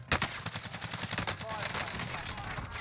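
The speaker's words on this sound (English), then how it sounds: "Somebody else was shooting at me" Rapid gunfire in Call of Duty: Warzone, a dense burst of automatic shots rattling steadily through the whole moment at close range, with faint voice traces mixed underneath.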